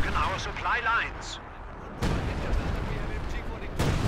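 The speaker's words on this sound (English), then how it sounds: "Another major artillery taking care of the building." Artillery shells pounding a building in the real-time strategy game Company of Heroes 2, with heavy booming blasts and rumbling impacts under a voice commenting over the action.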